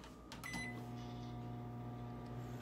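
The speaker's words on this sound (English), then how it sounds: "It's a freaking microwave." A microwave oven hums steadily on a cold night, a low even drone with a faint mechanical buzz, after a couple of short clicks at the start.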